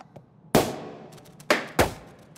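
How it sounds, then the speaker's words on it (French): Three sharp, bright cartoon bangs from confetti cannons in an animated My Little Pony episode, the first near half a second in and the last two close together, each with a quick decaying tail over a quiet background. "qu'on les terrorise avec des explosions de canons à confetti"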